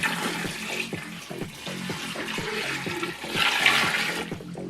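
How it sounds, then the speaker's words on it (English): Water poured into a cheap portable washing machine: a steady splashing, gurgling stream with rhythmic glugs, close and fairly loud, swelling near the end, with no talk. "Okay, so I'm going to put water."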